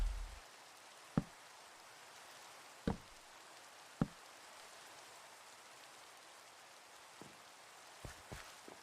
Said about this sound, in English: It's the rain again.